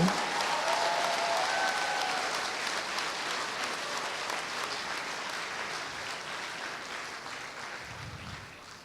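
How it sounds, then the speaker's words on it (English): A convocation audience applauds for a graduate, a dense, steady wash of many hands clapping throughout the hall, fading only slightly over several seconds. "another round of applause for Mr. Arif Hodori"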